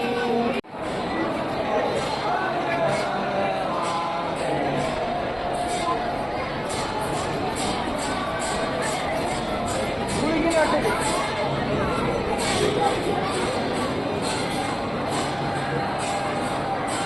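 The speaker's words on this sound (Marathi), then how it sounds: "दर्शनासाठी भरपूर प्रमाणात गर्दी आहे" A dense crowd of devotees at the Mahakal temple in Ujjain fills the space with steady, continuous babble and chatter, close and busy throughout, with occasional louder swells of voices.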